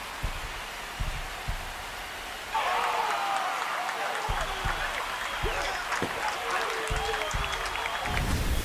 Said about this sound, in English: This crowd has really come alive. This place is loud.